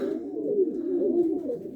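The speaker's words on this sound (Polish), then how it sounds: "Gołębie dalekodystansowe" Long-distance racing pigeons coo in a low, soft, rolling murmur close by, continuous and gentle with no talking.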